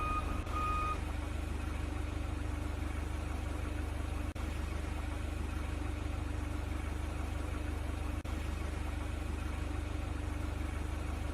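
A forklift in a virtual reality warehouse training game, a steady low engine drone running throughout with a brief beep at the start.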